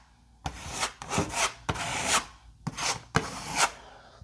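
A flexing putty knife drags spackle across an interior wall, making five close scraping strokes with short pauses between them and no talking.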